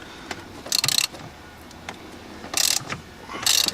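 Three short bursts of ratcheting from a ratchet wrench loosening the front seat bolts inside a BMW E92 M3, each burst a quick run of clicks, close and fairly loud with quiet gaps between.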